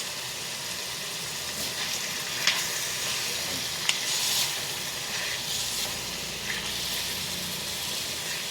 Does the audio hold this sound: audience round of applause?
no